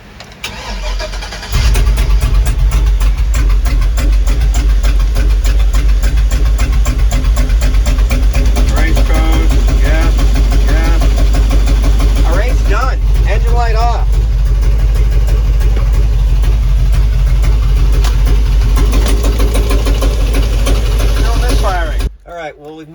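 A 2004 Chevy 6.0 V8 starts and idles roughly with a misfire, a loud, close, uneven engine rumble that holds steady for about twenty seconds before cutting off, with people talking over it.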